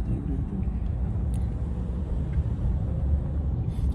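California road traffic heard from inside a car: a constant low rumble of tyres and engine with a faint hiss, steady throughout, and brief higher clicks near the end.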